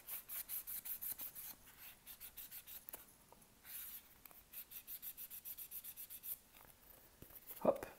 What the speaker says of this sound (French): maintenant, on va pouvoir nettoyer tout l'intérieur de la coque